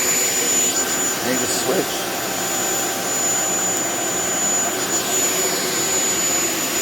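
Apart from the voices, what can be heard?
Shark Vertex corded stick vacuum cleaner running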